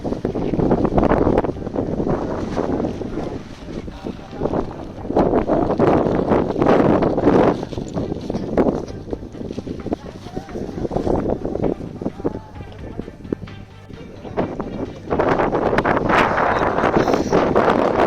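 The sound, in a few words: strong wind on a mountain fort trek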